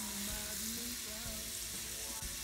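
Butter melting in a pan over medium heat gives a steady, close sizzle with faint crackle, broken by a few soft scraping or stirring touches and no voices, while shrimp scampi is being made.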